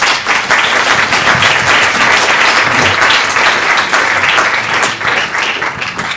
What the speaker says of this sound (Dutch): Een applaus voor onze gasten